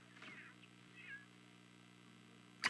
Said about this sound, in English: Is this your kitty?